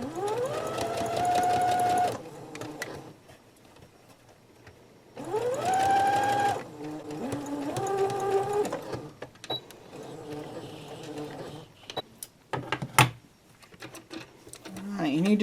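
A sewing machine stitches a curved face mask seam in short bursts, each run a few seconds long with a rising whine, separated by pauses and small clicks as the fabric is turned.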